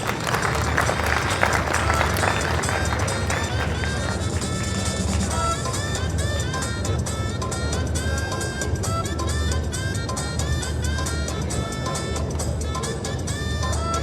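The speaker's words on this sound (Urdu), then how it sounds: "آپ کی بھرپور تالیوں میں" Dense, continuous applause from a large audience in a seminar hall, steady and loud throughout, with busy background music-like tones and crowd noise mixed in.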